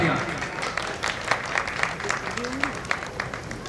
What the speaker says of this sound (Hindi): बोले परम पूज्याचार्य श्री प्रसाद के लिए जोरदार तालियां।